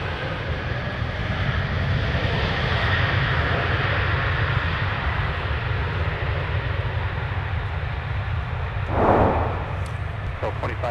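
An airliner arriving from Philadelphia lands at Minneapolis–Saint Paul airport, a loud, continuous jet roar that stays steady and swells briefly near the end.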